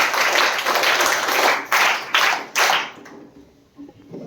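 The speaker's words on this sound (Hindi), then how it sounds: "सबके लिए जोरदार तालियां।" A sixth-grade class claps for fellow students, a burst of lively applause with a few strong accented claps near the end before it trails off into quiet room noise.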